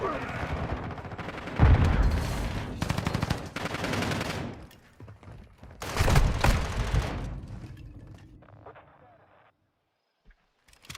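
Automatic weapon fire from the video game Modern Warfare 2, heard as loud, dense bursts of machine-gun shots in rapid succession with brief pauses between volleys, dying away to near silence at the end.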